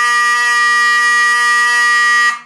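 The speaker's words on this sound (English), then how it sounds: "we might be able to make it go back into alarm with the manual evac switch." A Honeywell DeltaNet FS90 fire alarm blares a loud, steady electronic buzzing tone that holds without a break, then cuts off abruptly near the end.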